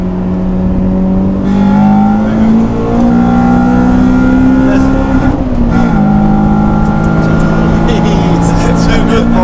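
A Honda Civic Type-R EP3 driven hard through corners, its engine a loud close whine that climbs in pitch, dips at a shift and rises again, with tyre and road noise underneath.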